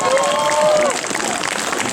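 A crowd applauds strongman Žydrūnas Savickas after his Guinness world record pull of 20 cars in Druskininkai, the clapping dense and steady from start to finish, with a voice briefly over it at the start.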